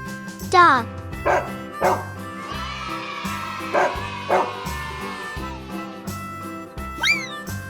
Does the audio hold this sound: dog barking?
yes